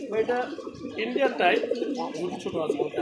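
Indian Bombay round-crested pigeons with yellow eyes and white beaks coo softly in a pigeon market, their low calls running beneath steady, close conversation between people.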